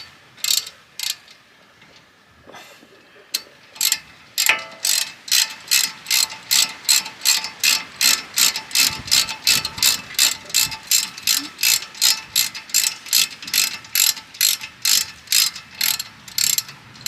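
A ratchet wrench turns a bolt during brake pad replacement on a Kia Sorento, a long run of loud, evenly spaced clicks at close range that speeds up into a steady rhythm after a few slow strokes.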